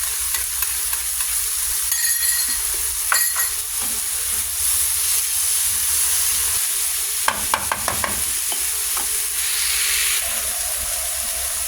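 Black beans go into milkfish (bangus) frying in a pan, giving a loud, steady sizzle and hiss with a few bursts of stirring and scraping, close and continuous with no talk.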